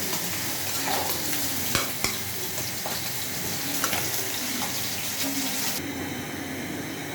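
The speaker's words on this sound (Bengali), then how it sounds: "এই তো মাছগুলো ভেজে নিয়েছি" Pieces of rohu fish fry in hot oil in a home kitchen, giving a steady, close sizzle that fills the whole stretch, broken by a few sharp clinks.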